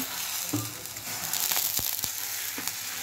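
A paratha sizzles and fries on a hot pan, with steady broadband crackle and a few sharper pops and taps of a spatula; close, moderately loud, with no talking.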